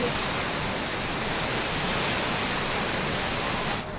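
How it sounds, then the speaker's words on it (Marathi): Floodwater from a swollen river pours over a bridge near Hatti village in Sillod taluka, a loud, unbroken roaring rush of water filling the whole short stretch with no voices. "तरी सुद्धा पुलावरून पाणी वाहत आहे"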